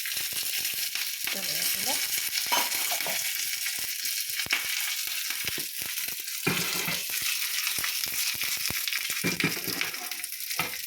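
Mustard seeds tempered in hot oil for an ivy gourd curry, a steady crackling sizzle with frequent sharp pops and spits, close and continuous with occasional stirring scrapes.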